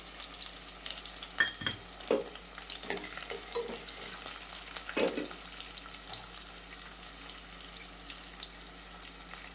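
Urad dal, chana dal and peanuts frying in oil for Andhra-style upma, a soft sizzle broken by a few clattering stirs and scrapes of a spoon, close and fairly quiet, no voices.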